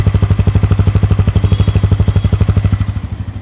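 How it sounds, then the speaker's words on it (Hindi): Bajaj Pulsar N160 motorcycle exhaust, a close, loud rhythmic thumping of rapid evenly spaced pulses at idle that fade slightly toward the end, no speech. "इसकी एग्जॉस्ट साउंड प्रॉपर्ली किस तरीके से है वो मैं आपको सुना रहा हूँ यहाँ पे"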